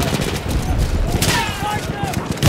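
Rapid bursts of machine gun fire crackle in Battlefield 1 combat, dense overlapping shots with booming impacts, while a voice talks over the gunfire.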